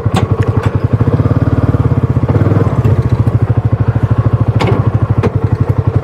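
A 2024 Kawasaki Mule Pro MX UTV crawls through a ditch with its rear differential locked, its engine droning steadily and loudly up close, with a few thumps and clatters from the chassis over the uneven ground.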